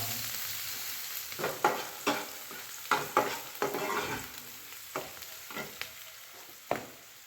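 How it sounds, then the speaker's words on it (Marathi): Chopped onion frying in hot oil in a pan while being stirred, with a steady close sizzle broken by a dozen or so sharp scraping strokes of the spoon against the pan, and no talking. "पॅनमध्ये तेल टाकले आहे फोडण्यासाठी कांदा"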